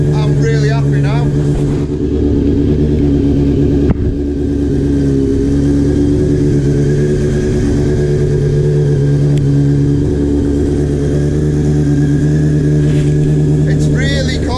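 A Honda CBR600F Sport, an early fuel-injected model, idles steadily on a cold start, its engine note loud and close throughout, with a voice talking over it.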